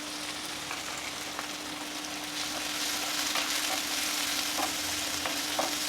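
Onion, green chillies and curry leaves fry in a pan for banana stem kootu, a steady close sizzle with occasional light stirring ticks and a faint constant hum underneath, growing slightly louder, no talk.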